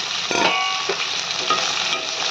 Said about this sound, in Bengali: এবারে দিয়ে দেবো ঢ্যাঁড়সটা